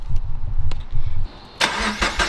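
A car engine rumbles nearby in low pulsing bursts, briefly drops out, then roars back louder with a burst of revving.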